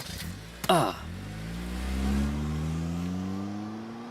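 A car pulls away after a sharp knock, its engine revving and rising steadily in pitch as it drives off, close and fairly loud with no talk.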